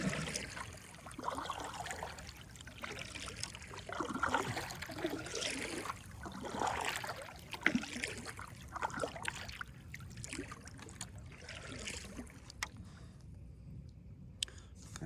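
A kayak paddled downstream toward Wroxham Broad in the evening, with soft, continuous water swishes and trickles from the paddle strokes, close and steady throughout, with no speech.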